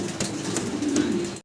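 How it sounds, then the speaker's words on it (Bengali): High-flier pigeons at a loft coo in a close, continuous, throaty murmur that rises slightly near the end, with no talking. "খুব সুন্দর একজন হাই ফিলার কবুতর দেখাচ্ছি"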